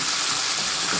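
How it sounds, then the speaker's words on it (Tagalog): Steady broadband rush of a little water pouring into a cooking pan, continuous and fairly close, with no talking over it. "Nilagyan ko siya ng konting tubig"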